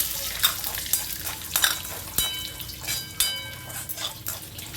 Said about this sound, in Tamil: அதுக்கப்புறம் கருவேப்பிலை, காஞ்ச மிளகா, கடலைப்பருப்பு, இது எல்லாம் நல்லா வதங்கட்டும்.